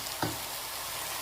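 Veal steak sears in a very hot pan with a loud, dense, close sizzle, broken by a brief sharper crackle as it settles.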